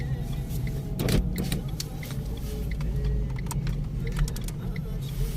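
A car turning left at low speed in first gear on a driving-test course in İzmit, with a steady low engine rumble and a few light clicks and rattles, while an instructor talks over it.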